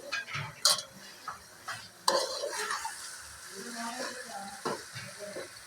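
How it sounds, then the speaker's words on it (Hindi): Keema minced meat fries in ghee with a soft ongoing sizzle, punctuated by sharp clinks and scrapes of a spoon stirring against the pot, heard close with no talk. "ये इन्होंने कीमा डाल दिया है और इसकी करेंगे भुनाई"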